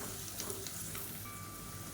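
Turmeric and garam masala powders sautéing with ginger garlic paste for a Tamil-style kuzhambu, giving a faint, steady sizzle with small stirring ticks.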